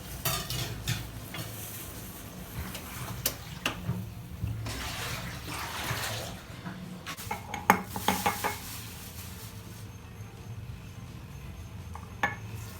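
Boiled water is poured into whisked egg tea in a kitchen, with clattering of cups and utensils, a running-water rush, and sharp clinks throughout.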